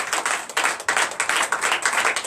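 A church congregation at a Sunday service claps and applauds, a dense burst of hand claps with uneven surges, fairly close and steady throughout.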